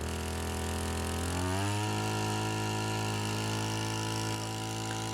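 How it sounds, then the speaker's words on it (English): A Sharp Garuda power sprayer's small engine drones steadily, then revs up over about half a second to a louder, higher-pitched hum at maximum RPM and holds there. "We will now increase the engine's throttle to raise it to the maximum RPM"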